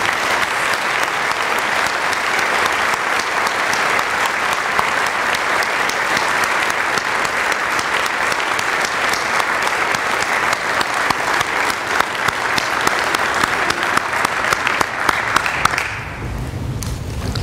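Sustained applause fills a hall at a university honor society induction ceremony as a seated audience congratulates the honorees, steady and loud throughout before tapering off abruptly at the end.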